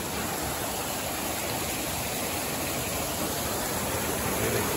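Floodwater from a cloudburst pours across a mountain road in Uttarakhand, a steady, loud broadband rush of churning water that holds constant throughout with no voices.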